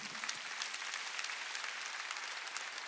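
A church congregation at a Sunday worship service breaks into sustained applause, a steady hiss of many clapping hands heard from a distance that continues evenly without speech.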